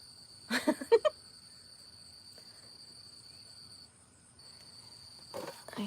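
Crickets chirp outdoors at dusk, a continuous high-pitched trill running throughout, with a few brief louder knocks and rustles nearby.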